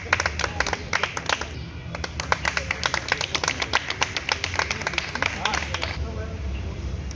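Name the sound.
audience applause at party meeting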